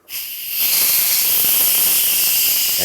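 Steam hisses steadily and loudly from an Instant Pot's pressure release valve after it is slid open, a continuous bright rush that starts abruptly and holds without letting up.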